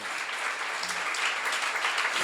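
Applause from an audience at a church seminar, a steady wash of many hands clapping at moderate volume, somewhat distant and continuous.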